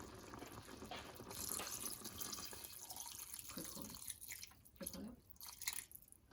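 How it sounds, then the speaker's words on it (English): Water pours into a pot of pork ribs, a soft running splash and trickle that fades into scattered drips and small clinks near the end, quiet and close, with no talk. "Just add water, fill it up to the ribs so the ribs can be softened."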